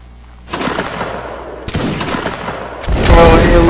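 Musket volleys crack out in a Napoleonic line battle in Mount and Blade: Warband, several loud ragged bursts of massed gunfire in quick succession, each trailing into a rolling echo, with the last volley the heaviest.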